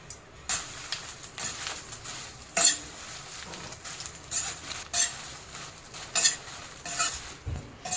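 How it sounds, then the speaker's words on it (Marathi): Green chilies frying in oil hiss in short uneven bursts, each flare of sizzle mixed with the clink and scrape of a spoon stirring against the pan. "आता आपण मिरच्या टाकून घेऊया ते पण चांगल्या तेलात फ्राय करून घेऊया"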